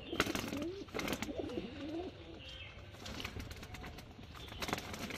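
Pigeons in a loft give soft, rolling coos, several overlapping calls close by early on, then quieter cooing and faint movement, with low voices talking in the background.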